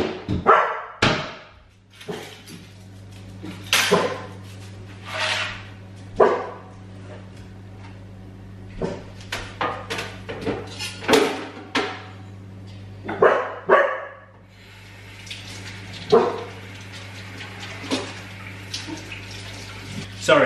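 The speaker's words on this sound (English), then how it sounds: "ready for the barks?" A dog barks repeatedly in sharp, loud bursts, irregular and close, with water running in the background and occasional voices between the barks.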